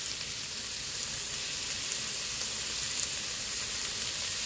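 Garlic sizzles in a hot pan with a steady, close, hissing crackle that holds evenly throughout with no talking.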